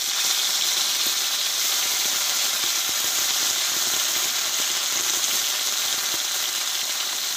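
Ginger, green chilli and cumin paste frying in hot oil over tempering spices, a steady close sizzle and hiss that runs unbroken, with no talking.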